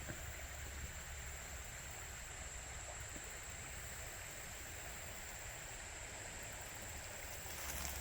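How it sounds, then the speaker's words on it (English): Steady rushing of flowing water, a constant broadband hiss with no voices, fairly faint and even throughout. "You hear the water from the creek."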